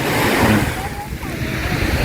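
Sea waves wash in at a beach, a broad hiss of surf mixed with gusts of wind noise on the microphone, close and fairly loud throughout.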